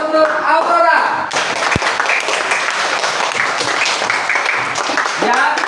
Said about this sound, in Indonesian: Beri tepuk tangan untuk Aurora.